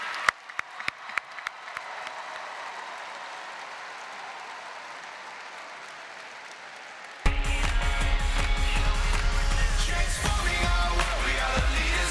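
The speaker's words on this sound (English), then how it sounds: "Let's give one more final round of applause for all of the individuals here" Applause from a large convention audience at the National FFA Convention general session, starting as scattered claps and then swelling into loud, steady clapping with music coming in underneath.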